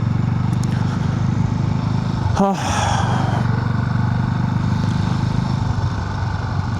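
A Sothassi 400 Classic motorcycle cruising steadily on an open road, its engine drone and wind rush continuous and close throughout, with a brief voice cutting in.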